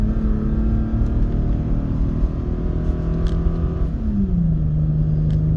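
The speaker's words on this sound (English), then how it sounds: "So we had a downshift there." A small, narrow pickup truck towing a short camping trailer up a winding hill: a steady engine drone with an audible downshift midway, as the engine pitch rises and settles into higher RPM, heard from inside the cab.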